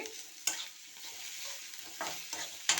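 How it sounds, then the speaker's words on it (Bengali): Spices with turmeric and chopped chilli stirred in a pan with a little oil, a steady soft sizzle broken by a few sharp scraping strokes of the spoon, close and alone without talk. "পরিমাণ মতো হলুদ দিয়ে এবারে নেড়ে নেবো একটু মশলাটা লঙ্কা কুচিটাও দিয়ে দিচ্ছি"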